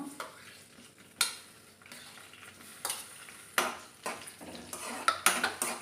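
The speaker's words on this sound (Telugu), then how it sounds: "పచ్చిమిర్చి వేసుకొని వేయించుకోవాలి" Green chillies frying in a pan for an amaranth-leaf chutney, with soft sizzling under repeated scraping and clattering from stirring, several sharper knocks near the end, and no voices.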